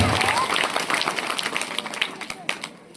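Audience applause at a devotional tribute gathering honouring a spiritual discourse speaker, a dense run of claps close to the microphone that thins out toward the end, with voices mixed in.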